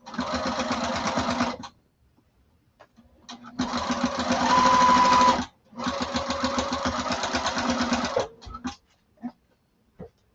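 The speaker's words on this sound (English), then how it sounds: "I'm going to start stitching." A sewing machine stitches the exterior of a duffle bag in three loud, sustained bursts of rapid mechanical whirring separated by short pauses, with a few soft clicks and handling noises between runs.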